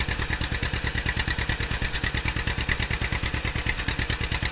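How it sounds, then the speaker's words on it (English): A 1954 John Deere Model 60 tractor engine runs with a steady, loping two-cylinder putt-putt, loud and close, its even pulses repeating several times a second. "I also like the John Deere so much, it sounds awesome."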